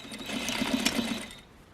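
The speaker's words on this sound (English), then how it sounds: "what I'm going to do is sew 1/16 of an inch away from this edge" A sewing machine runs a steady stitching line along the edge of pressed fabric for a flat-felled seam, a close continuous whir that stops cleanly before the end.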